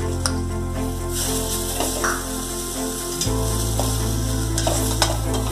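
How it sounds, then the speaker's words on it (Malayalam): Ripe chopped tomatoes sautéing in masala for restaurant-style vegetable kurma, a steady close sizzle with repeated spoon scrapes and clinks against the pan; a low hum underneath shifts partway through, and no one speaks. "തക്കാളി നന്നായിട്ട് വേഗത്തിൽ ഉറഞ്ഞു ചേരുന്നത് വരെ വഴറ്റി കൊടുക്കാം"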